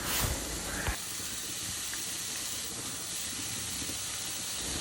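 Half an onion sautéing in hot coconut oil in a pan, a steady close hiss and sizzle that runs on unbroken, with a sharp splash and crackle right at the start as it goes in.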